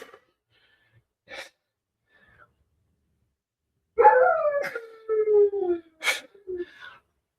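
A dog shut in a crate lets out a loud, drawn-out howl and whining moans after a few quiet seconds with faint sounds, close and alone with no talk.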